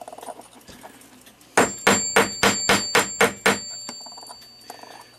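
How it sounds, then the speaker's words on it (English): Hammer planishing metal during a cuckoo clock repair: about eight sharp, evenly spaced ringing metallic strikes in quick succession, close and loud, after a quiet stretch. "And as you hammer, kind of pull the hammer so it's moving outward, called planishing"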